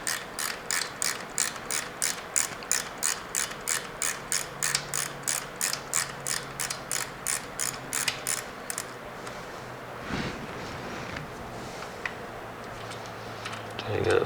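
A ratchet wrench loosens shift linkage bolts on a 2022 Harley-Davidson Road Glide ST, giving a rapid, steady run of about twenty close, loud clicks before it stops and a quieter stretch of handling noise follows.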